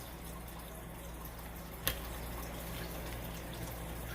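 Small water filter pump giving a continuous soft trickle of falling water over a low, steady motor hum, with one brief sharp click partway through, close and quiet.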